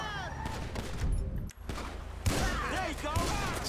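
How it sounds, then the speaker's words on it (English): Gunfire in a Grand Theft Auto video game, scattered shots and short bursts mixed with game sounds and chatter, moderately loud, with a brief drop partway through. "Shoot that gun, kid. That's what it's for."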